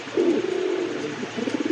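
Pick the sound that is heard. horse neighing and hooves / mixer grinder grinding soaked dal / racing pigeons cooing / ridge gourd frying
racing pigeons cooing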